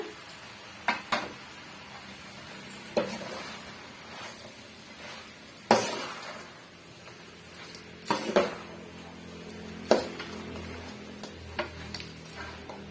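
Chettinad chicken fry is stirred in a pan with coriander leaves, giving a quiet background with intermittent metallic scrapes and clinks of a spoon against the pan every second or two.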